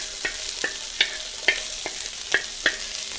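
Chopped onion, ginger and garlic fry in hot oil for gobi manchurian, a soft sizzle broken by about seven sharp scrapes of a spatula stirring the pan at an uneven rhythm.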